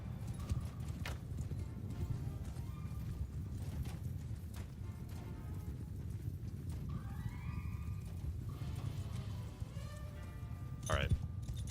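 Horses clip-clopping on a battlefield in the medieval combat game Bannerlord, steady hoof beats with an occasional whinny under ongoing crowd and battle noise, with someone talking over it.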